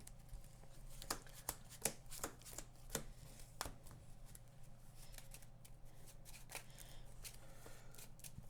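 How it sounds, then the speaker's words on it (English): A deck of cards is shuffled during an Aeons End Legacy board game, soft quick riffles and sharp crisp taps in irregular bursts, quiet and close with room hum beneath. "Shuffle this."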